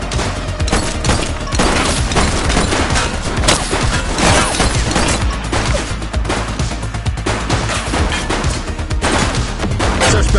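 Loud, sustained gunfire rips through a shootout in The Precinct, a police video game, with rapid bursts of shots and crashing impacts packed densely for the whole stretch.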